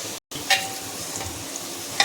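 A small amount of onion frying in a pan, with a steady close sizzle and a few light stirring clicks, and no talk.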